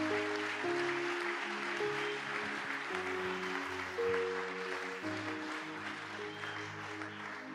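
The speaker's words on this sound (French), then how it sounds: "Si tu crois, acclame le Seigneur." Church congregation applauding and acclaiming the Lord at a Sunday thanksgiving service, with sustained clapping and cheering blended with steady organ or keyboard chords throughout, moderately distant.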